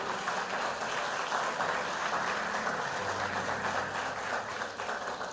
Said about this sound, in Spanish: Amén, denle ese aplauso al Señor.